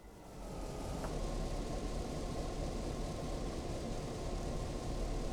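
A simulated diesel locomotive, an FP7/F9 in Train Simulator Classic, idles steadily with a dense, noisy rumble and hiss, a brief click near the start, no voices.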